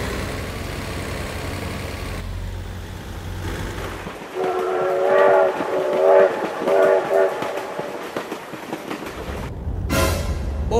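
A train rumbles past in a truck-driving video game, with a heavy low roar, a sounding horn in repeated blasts, and clattering wheels, loud and close, ending abruptly.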